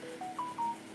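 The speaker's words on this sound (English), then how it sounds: "Oh, sorry for my phone notification." Phone notification chime: three short rising electronic tones in quick succession, clear but fairly soft against a quiet room, with no talk.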